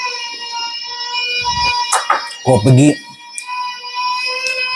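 A loud, steady siren-like wail of sustained tones runs throughout, with a few brief spoken words and clatter over it.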